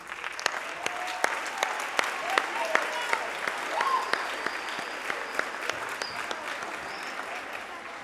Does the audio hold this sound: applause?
yes